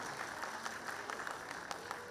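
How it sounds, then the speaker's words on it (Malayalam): Audience applause at a Keralolsavam 2024 stage event, a steady wash of many hands clapping, moderately distant and fairly faint, with no talk. "കയ്യടി കൊടുക്കാം."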